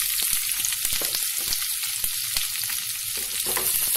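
Onion and green chillies fry with whole spices for chicken bhuna masala, making a bright, crackling sizzle with frequent stirring clatters close up and no speech.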